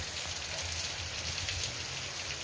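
Steady rain drums on a roof in Fortaleza, a dense, even hiss of drops with no pauses and no voices.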